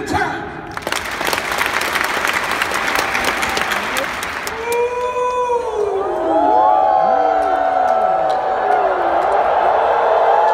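A large convention crowd claps and cheers loudly for the first few seconds with many sharp overlapping hand claps, then the clapping thins as whoops and shouting voices rise and carry on to the end.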